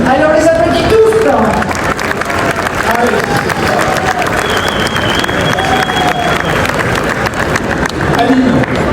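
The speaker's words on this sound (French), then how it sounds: "Alors les applaudis tous." Sustained audience applause at a cat show final during an agricultural fair, busy steady clapping from a crowd in a large hall, with voices talking and murmuring underneath.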